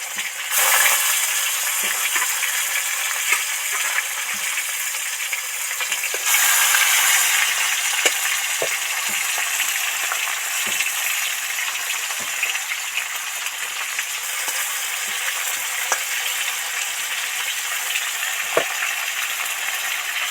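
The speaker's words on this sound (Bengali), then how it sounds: "দেখছি খুব ভালো করে ভাজা যাচ্ছে" Pieces of katla fish fry in plenty of oil in a wok, giving a long, even, hissing sizzle with scattered soft pops and a brief louder surge early on.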